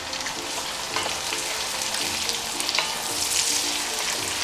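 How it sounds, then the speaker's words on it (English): Small pieces of sliced onion frying in melted butter for jollof rice, a dense steady crackling sizzle with scattered pops, close and loud with no talking. "So my butter has melted, so now I'm gonna add my onion."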